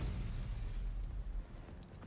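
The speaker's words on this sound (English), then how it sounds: "There's another explosion which sounds like it came from much closer this time." Explosion in the video game Girls Frontline 2: Exilium, a deep rumbling boom that holds loud and steady, then thins out with crackling debris, heard alone without talk.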